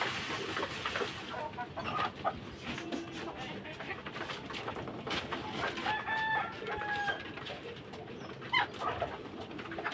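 Chickens being fed stale rice mixed with bran cluck and call amid steady bird chirping, with short bright calls and a distant rooster-like crow over a busy outdoor background.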